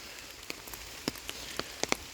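Rain falls during an outdoor walk, with a steady wash and scattered close drops tapping irregularly, and no voices.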